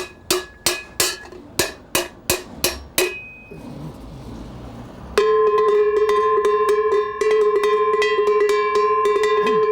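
A livestock cowbell is struck again and again with a hammer to tune its tone, a run of about nine sharp metallic clanks. Later it rings out in a sustained, bright, resonant tone with further strikes.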